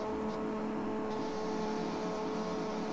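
Motocross bikes revving together at a race start in a video game, a steady, dense engine drone with sustained tonal whine, loud and continuous throughout.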